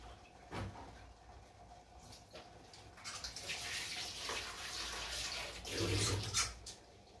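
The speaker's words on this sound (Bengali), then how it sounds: "আমি মাছটা একটু ধুয়ে নিয়ে আসি এখান থেকে।" Fish rinsed under a running tap in a home kitchen, the water splashing steadily and swelling louder toward the end, with no one speaking.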